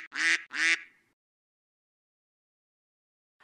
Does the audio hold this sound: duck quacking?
yes